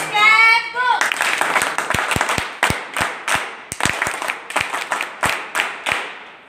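Claps from an audience at an NSS camp gathering in 2022 break into a spoken speech, arriving as sharp, separate hand claps that stay fairly loud and close and follow an uneven rhythm. A brief vocal sound comes first.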